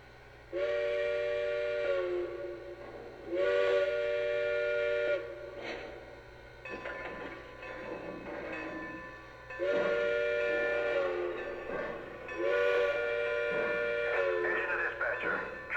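Lionel Pennsylvania 2-10-4 Texas model steam locomotive on a home layout, sounding repeated multi-tone steam whistle blasts in bursts over a low mechanical hum, with chuffing and rail clatter between them.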